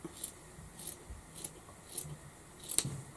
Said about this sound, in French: Ce que je fais, c'est que je vais couper la grandeur qu'il me faut pour faire l'ourlet.